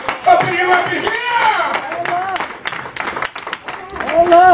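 A church congregation claps in praise during a sermon, scattered hand claps blending with loud preaching, shouts and organ-like tones that dominate throughout.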